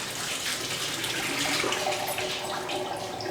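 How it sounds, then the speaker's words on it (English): Water pours steadily through a silicone clip-on strainer fitted to a pot, draining off fries in a continuous close splashing rush. "I'm going to use it today to get the water out of these fries."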